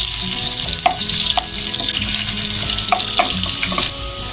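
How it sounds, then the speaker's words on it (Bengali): Onions frying loudly in a pan for egg korma, a dense continuous sizzle with occasional spatula taps as they are stirred toward browning, close and steady with no talking. "একটু নাড়ব, পেঁয়াজটি একটু বাদামি রং হবে"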